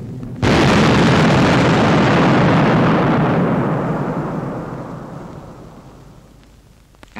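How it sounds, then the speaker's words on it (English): A large aerial bomb explodes in a 1945 wartime newsreel, a sudden loud blast that erupts at once and rolls on as a long, slowly fading rumble with no voices. "A feature of the big bomb is the crater it makes before it goes off."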